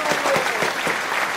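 A short burst of studio applause welcoming a finance show host about to sing, steady dense clapping from a small audience at an even level throughout.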